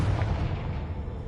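A Confringo blasting spell goes off in a video game as a single loud, close explosive boom with a rumbling tail that fills the whole moment.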